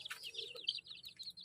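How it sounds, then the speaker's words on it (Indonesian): Chickens, including a colourful rainbow-feathered bird, cluck and call in quick, close, steady bursts over a faint low background hum. "Wow, ada ayam teman-teman."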